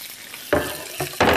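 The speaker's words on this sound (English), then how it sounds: "Nothing like the sizzle of something cooking in your pan there." Seitan hits a hot frying pan with a sharp sizzle, followed by a couple more bursts of frying as it is stirred and browned, close and loud.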